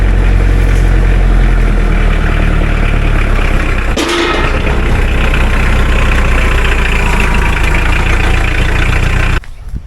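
A Mahindra diesel tractor engine idles loudly and steadily up close, a deep continuous rumble with a slight rattle, cutting off abruptly near the end.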